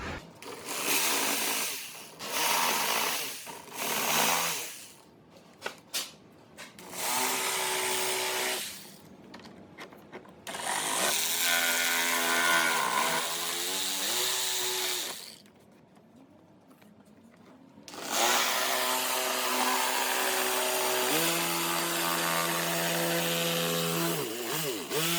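Power saw cutting through the front bumper grille of a 5th-gen Toyota 4Runner, loud harsh bursts of cutting that stop and restart several times, with high whining pitches as the blade bites.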